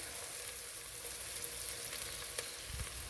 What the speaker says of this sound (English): the vegetables are starting to come up to a nice saute